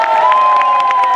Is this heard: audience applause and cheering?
yes